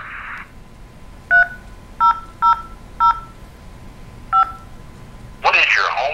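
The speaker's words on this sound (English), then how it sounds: "Say your phone number now or key it into the touchpad." Telephone keypad DTMF tones keying a home phone number into an automated phone data-collection line: five short, clear beeps in an uneven rhythm, with brief noise bursts at the start and end.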